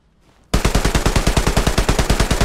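Heavy gunfire erupts in the Hell Let Loose battlefield after a short quiet lead-in, a loud rapid automatic burst with steady rhythmic shots continuing without pause.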